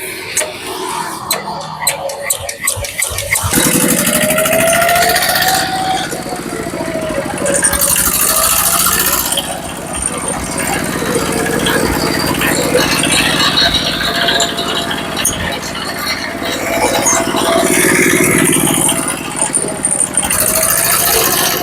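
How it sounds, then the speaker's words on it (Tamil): A car engine in good condition idling steadily with a light rattle and clink, close and fairly loud throughout, with a faint voice in the background. "இன்ஜின் நல்ல கண்டிஷன்ல இருக்கிற புகை ஒன்றும் இல்லை"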